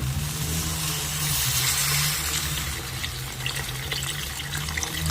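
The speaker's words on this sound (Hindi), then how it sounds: "और अब हम पानी को डालने जा रहे हैं।" Water pours steadily into a pan of fried soya chunks and potatoes, a continuous loud gushing splash that runs the whole time with no talk over it.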